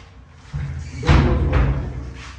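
A door slams shut in a reportedly haunted building with a heavy thud over low background rumble, followed by a lingering boom.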